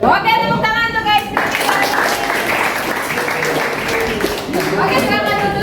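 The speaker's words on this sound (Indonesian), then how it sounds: "Oke, tepuk tangan untuk guys." Classroom of students clapping together, a burst of many hands that rises after a teacher's voice and continues as a lively patter, with chatter and voices over it toward the end.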